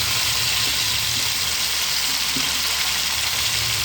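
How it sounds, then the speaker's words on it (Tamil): Ginger, green chilli and coriander sauté in hot oil with a loud, steady close-up sizzle that holds evenly throughout, broken only by a few soft stirring knocks. "கொத்தமல்லியும் நம்ம எண்ணெயில் வதக்கிடணும்"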